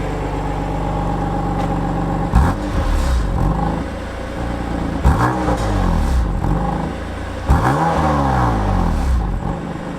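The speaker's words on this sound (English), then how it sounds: "I'll give it a few revs with the valves closed" BMW M2 Competition engine revved with the exhaust valves closed: a steady idle broken by three sharp blips that rise and fall, near and fairly loud, with no talking.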